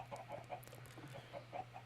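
Minecraft chickens cluck in a string of short, soft calls heard at a low level over a faint steady hum, with no talking.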